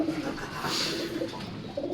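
Courting checkered pigeons coo softly in a loft, low murmuring calls repeating several times over a dense, steady background hum, fairly faint and close.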